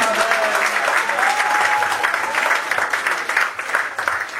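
A wedding congregation in Villiers-le-Bel, France, claps loudly and steadily throughout, dense close applause filling the room, with a faint voice briefly audible beneath.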